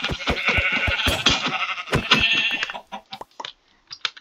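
Sheep in a video game let out a run of short, sharp bleats one after another, loud and close at first, then thinning to a few quieter scattered calls.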